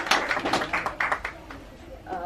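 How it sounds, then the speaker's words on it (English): Applause from a small audience at a bookshop talk in London, a soft patter of many hands, fairly faint and thinning out toward the end as a voice begins. "So, round of applause, ladies and"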